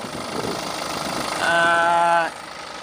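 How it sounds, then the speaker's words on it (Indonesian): A 2013 BMW X3 F25 xDrive20d diesel engine runs nearby with a steady rumble, rising briefly into a revved, tonal whine before dropping back, with a person talking over it. "untuk ukuran diesel udah lebih halus, tapi mungkin kalau dibandingkan mesin bensin ya ini tetap kenceng sih"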